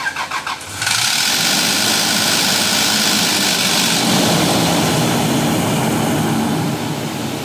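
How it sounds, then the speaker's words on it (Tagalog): A freshly rebuilt V6 engine cranks in a few quick stutters, then catches and roars into a loud, steady run that holds close and dominant throughout, with no voices. "ito na mga kaibigan yung unang andar, pakinggan natin"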